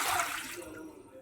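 Water splashes briefly into a bowl of maida flour for chegodi dough, a short burst of pouring that fades quickly, followed by quiet kitchen noise.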